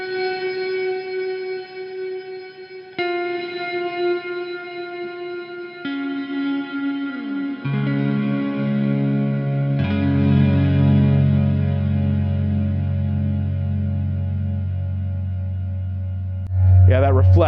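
An electric guitar plays through an EarthQuaker Devices Afterneath V3 reverb pedal. Single notes ring out one after another, then a low sustained chord swells into a thick, echoing wash of reverb, with no talking.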